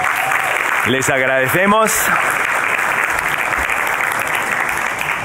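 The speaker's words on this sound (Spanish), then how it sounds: "hoy les reconocemos con un aplausito" A church congregation claps loudly and steadily; a voice speaks briefly in Spanish over the applause near the start.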